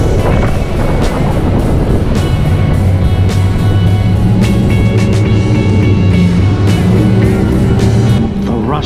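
A speedboat on a Horizontal Falls tour accelerating hard, its engine roaring loud and steady beneath heavy wind buffeting and water rush, the motor's tone climbing and sustained throughout.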